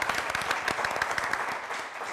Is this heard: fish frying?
no